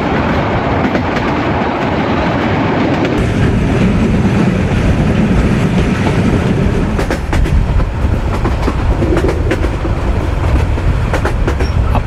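An intercity train running at speed, heard from the open connecting section between two carriages: a loud, steady roar of wheels and rattling couplings with clattering rhythmic clicks over the rail joints, and no talk.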